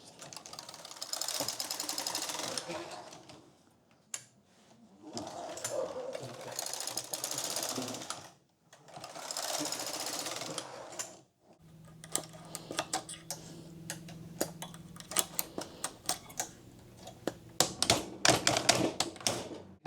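A domestic knitting machine carriage pulled back and forth across the needle bed knitting rows of ribbing, heard as repeated loud clattering, rattling passes with short pauses between them, followed by dense mechanical clicking and ticking.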